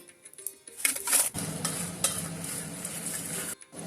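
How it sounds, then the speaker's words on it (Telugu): Dry red chillies fry in a little oil in a pan, giving a soft sizzle with scraping stirs and light clinks of the utensil against the pan, close and fairly quiet. "కాస్త ఆయిల్ వేసి ఎండుమిర్చి వేయించుకుందాము"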